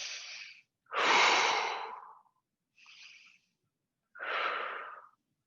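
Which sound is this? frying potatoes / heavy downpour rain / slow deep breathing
slow deep breathing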